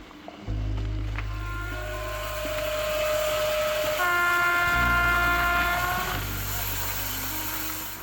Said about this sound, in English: it's here that we begin to traverse one of Poland's slowest railway lines